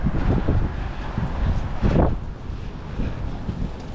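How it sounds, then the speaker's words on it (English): Strong outdoor wind buffets the microphone in loud, rough gusts, with a surge of rushing air midway and no talking. "that wind's whooping. I hope it ain't messing up the camera sound"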